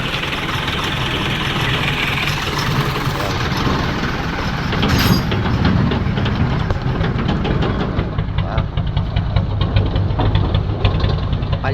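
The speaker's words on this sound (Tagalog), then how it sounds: "Palyadong palyado po." A newly overhauled engine idling and misfiring badly while putting out white smoke, a loud, close, rough rumble with uneven knocking beats throughout.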